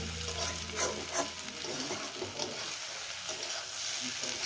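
Snake gourd with egg fries in ghee in a pan, making a loud, dense sizzle that crackles and spits steadily throughout.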